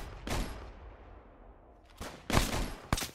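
Gunfire in the Roblox war shooter Operation Overlord: a sharp burst near the start, then after a quiet gap several loud, close volleys in quick succession.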